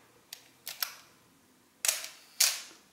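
A 35mm SLR film camera shutter fires twice at a half-second speed, each release a pair of crisp mechanical clicks marking open and close, heard close and alone in a quiet room.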